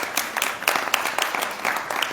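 An audience at a Hindi devotional discourse in India, a morning commemoration gathering, claps loudly. Individual sharp claps stand out from a steady, fairly even patter of many hands, with no speech.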